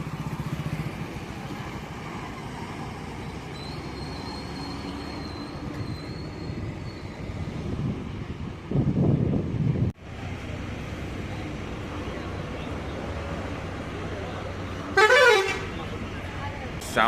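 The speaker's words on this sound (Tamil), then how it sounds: "செம்ம ஒரு ரைடு எஸ்சிடிசி வோல்வோவில் போய்கிட்டு இருக்குங்க." Brand-new SETC Volvo bus cruising along a road from Chennai, a steady low engine and road rumble heard from inside the cabin, with a short thump midway and a brief horn near the end.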